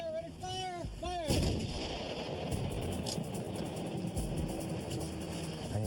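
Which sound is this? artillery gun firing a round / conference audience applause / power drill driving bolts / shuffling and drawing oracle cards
artillery gun firing a round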